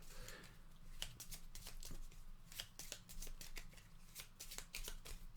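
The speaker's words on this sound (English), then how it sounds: "So we take these decks and we shuffle this back up" Decks of playing cards being shuffled during a solo tabletop game of Coin & Crown, a dense run of crisp riffling bursts and soft flicks repeating steadily and up close, with no talking.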